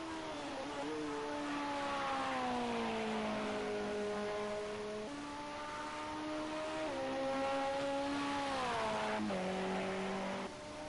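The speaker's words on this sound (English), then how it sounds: "Into Ascari then for the 24th time for the leading Porsche here." A leading Porsche race car powers through the Ascari chicane at Monza during an endurance race, its engine note climbing and dropping through gear changes as it sweeps past at a distance, with no voices.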